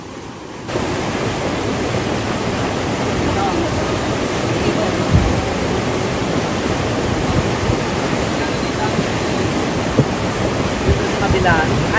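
A strong river rushes after Typhoon Paeng at Sitio Danlog, a loud, unbroken roar of water close by. It starts after a brief quieter moment and stays steady, with wind buffeting the microphone and a voice faintly mixed into the noise.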